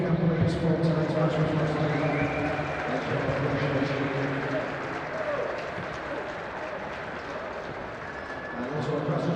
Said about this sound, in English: just a quick round of applause for both our teams in the companies for today's match